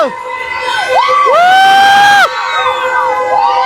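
A large crowd screams loudly together on a Columbus swing ride at a night festival, the Govada fair. Their rising wails swell and fade in waves as the ride swings.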